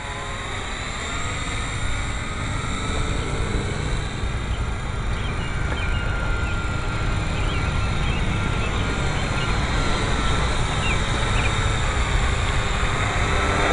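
Syma X8C quadcopter drone with a freshly soldered repair, flying outdoors after a crash; a steady, continuous rotor whine and hum holds level throughout the clip, fairly close and loud.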